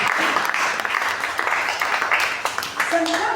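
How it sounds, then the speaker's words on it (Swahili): A church congregation gives warm applause, a broad wash of clapping that swells and fades while a voice speaks over it. "Pigia huyu Yesu makofi mazuri"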